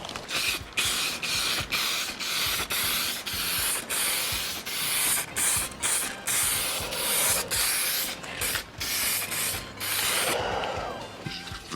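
1K semi-gloss clear coat sprayed from a can onto a blaster stock, a steady loud hiss running nearly twelve seconds, broken by brief pauses between passes, with no talking.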